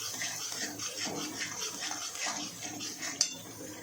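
Masala mixture being stirred with water in a pan for bhungla bateta, a soft, steady scraping and sloshing with faint clinks, one brief sharper clink near the end.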